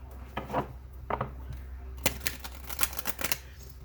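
A quick series of crisp tarot card shuffles, fluttering riffles in short bursts, close by and fairly quiet, with brief gaps between them.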